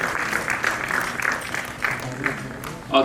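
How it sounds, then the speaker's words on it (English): Applause from an audience at a world culture and environment protection commission session, a steady patter of clapping hands that swells and fades over a few seconds, with a louder burst at the very end. "give a round of applause for the women of India"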